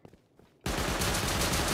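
Gunfire in Rust, a few faint thuds at first, then a sudden loud burst of rapid automatic shots that continues steadily to the end, no voices.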